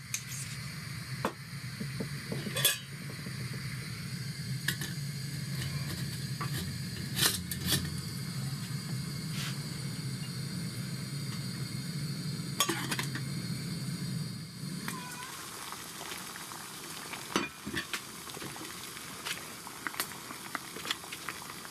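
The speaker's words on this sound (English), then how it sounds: "We've been slow boiling this at 4 minutes." A Hereford chili con carne pouch slow boiling on a trail stove: a low burner roar with soft bubbling and scattered ticks and pops runs for about fifteen seconds, then the roar stops, leaving quieter intermittent clicks and pops.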